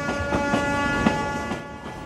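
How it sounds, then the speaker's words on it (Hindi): A passenger train approaching from the distance, a steady loud rumble with a sustained tonal drone and faint rhythmic knocks from the wheels on the track, heard alone without talking. "दूर से आती इस रेलगाड़ी को देखिए"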